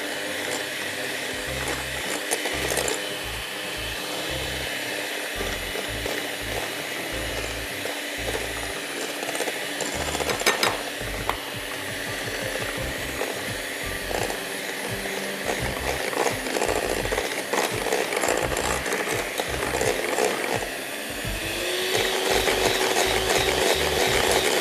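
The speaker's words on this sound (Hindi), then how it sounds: "बीट इसको करते रहेंगे।" An electric beater whips a sugar mixture for pavlova. Its motor whirs steadily for about 25 seconds, with rattling and clattering against the bowl and no voices.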